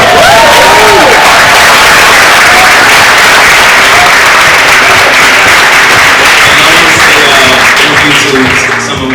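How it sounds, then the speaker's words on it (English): Loud, sustained applause from the audience at an art exhibition and fashion show, honoring the models, with scattered cheers and voices mixed into the dense clapping throughout. "Can y'all give a round of applause?"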